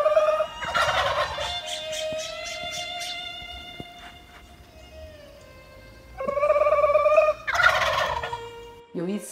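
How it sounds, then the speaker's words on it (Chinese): Male turkeys gobble in the spring countryside. Two loud, rattling bursts of gobbling are heard at the start and near the end, with quieter open air between them. "公火鸡不但喜欢叫，还会回应我们模仿它们的叫声"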